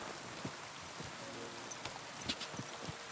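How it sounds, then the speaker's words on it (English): Rain falling in the medieval video game Kingdom Come Deliverance II, a steady soft hiss of drops with scattered louder patters, continuous and fairly quiet with no talk over it. "And it's raining again."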